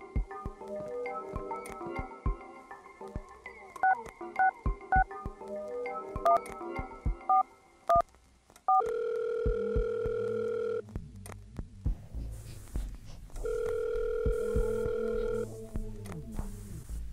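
A telephone in the horror video game Tree is dialed with a quick run of keypad tones, then a long ringback tone sounds twice with a pause between, each ring loud and clean against a quiet background.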